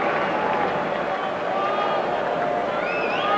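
Crowd at a 1991 Middlesex Sevens rugby match between London Scottish and Rosslyn Park cheers and applauds, a steady, dense roar of many voices that sits under a commentator's talk throughout.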